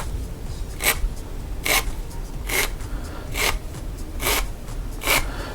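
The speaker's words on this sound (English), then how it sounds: "We want to grab our little file here, our little rasp." A small rasp files a wooden longbow arrow shaft in six regular, evenly spaced strokes about a second apart, each a bright scratchy burst, close and alone over a low background rumble.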